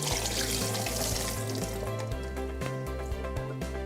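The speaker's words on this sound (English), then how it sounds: "I'm just going to drain the water out." Soaked cashews have their soaking water drained off in a home kitchen, a splashing, rushing pour under light background music.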